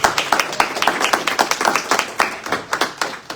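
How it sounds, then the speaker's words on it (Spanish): Church congregation claps in a rhythmic, unison beat, loud and close, with individual claps clearly separated in a steady pulse. "Un aplauso para el Señor."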